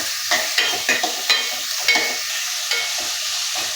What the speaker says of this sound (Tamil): வெங்காயம் நல்லா பொன்னிறமாக வதங்கணும்.